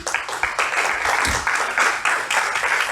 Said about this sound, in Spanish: démosle un aplauso a Papá Dios